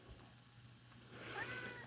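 A house cat gives a soft, faint meow near the end over a low steady background hum, with no one speaking.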